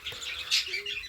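Budgies chirp briefly in a breeding room with young birds, a short bright burst of high tweets, fairly close and alone without talk.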